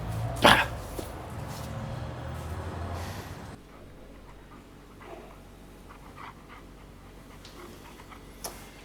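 A dog lets out one loud, sharp bark-like burst near the start, then pants and snuffles quietly against a low indoor background, with no talking.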